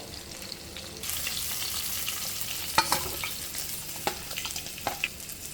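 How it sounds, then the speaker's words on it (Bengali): Fish fries in a pan on a lowered flame with a steady close sizzle, broken by a few sharp spits, pops and stirring clinks. "এখন আবার 5 মিনিটের মতো আমি ওই পিঠটা ভেজে নেব।"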